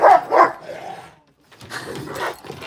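A dog barks twice close by, loud and sharp, followed by a short pause and then softer yips and whimpering barks.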